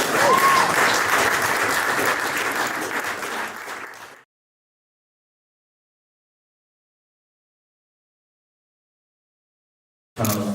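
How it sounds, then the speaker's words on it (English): Dinner guests at Spencer House give the support team a hearty round of applause, loud and dense for about four seconds before cutting to silence, with another burst at the very end. "So if everybody could please raise the applause for these guys."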